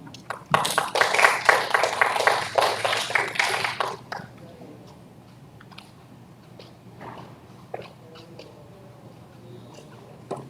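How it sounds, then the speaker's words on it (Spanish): Applause closing a scientific talk, a short round of clapping for a few seconds that fades out into a quiet room with faint scattered taps. "le pedimos con fuertes aplausos"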